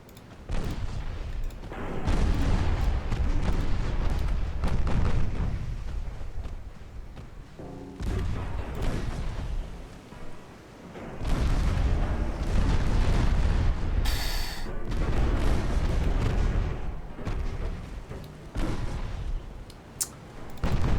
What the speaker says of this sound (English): The destroyers fire, smoke, and withdraw at this point.